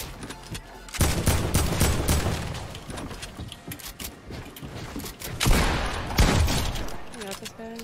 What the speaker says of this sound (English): Oh my god, I'm getting shot at from so many different angles